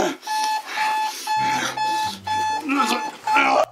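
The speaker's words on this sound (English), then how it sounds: "the mere beeping of the alarm clock" Repeated electronic alarm clock beeping in steady, evenly spaced bursts, loud and close, with other sounds and rustling underneath.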